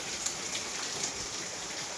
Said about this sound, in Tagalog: So, umuulan.